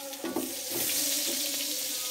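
Onion fries in a hot pan for chicken and tofu stew, giving a loud, close, continuous sizzle with a few stirring scrapes near the start, and no voice.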